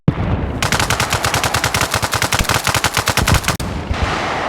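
Rapid automatic gunfire in the video game Arma Reforger rattles out as one long, loud, close burst of evenly spaced shots. It stops abruptly, and quieter ambient noise follows.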